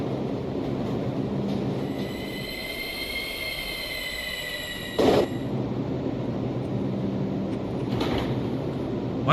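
Video-game subway train on a Brooklyn-bound 3 line in Minecraft, a steady rumbling run with a high whining motor tone throughout, brief louder clatter bursts midway and near the end, no talking.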